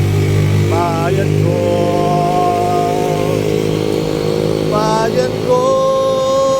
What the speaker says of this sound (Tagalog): Ako'y nagbabike ngayon patungo ng Sampaloc